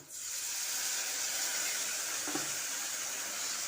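A sauce mixture of tomato sauce, chilli sauce, soy sauce and vinegar with capsicum bubbles and hisses steadily in a pan, a constant close sizzling wash with a faint clink midway.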